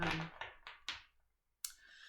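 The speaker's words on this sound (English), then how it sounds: "So let's get the cards out. I'll just shuffle for a little bit." A deck of tarot cards being shuffled quietly, giving several short crisp riffling bursts separated by brief pauses, close and alone, with one final sharper snap.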